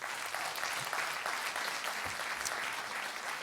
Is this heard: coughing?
no